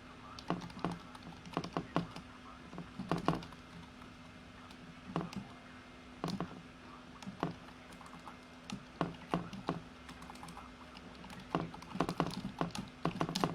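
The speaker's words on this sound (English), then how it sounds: "typing." Rapid computer keyboard typing in irregular bursts of keystrokes with short pauses, close and fairly quiet, with no voices.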